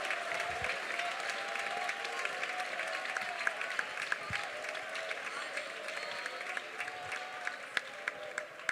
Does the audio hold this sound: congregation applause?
yes